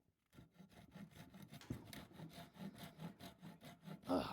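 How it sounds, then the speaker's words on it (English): A small hand saw cuts through wood in steady, rhythmic back-and-forth strokes, close and fairly quiet, with a louder scrape at the end of the cut. "So I got this little saw that I bought"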